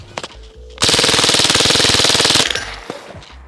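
An American 180 .22LR submachine gun fires one long, rapid automatic burst of sharp close cracks lasting well over a second, loud and alone, with a few clicks before and after.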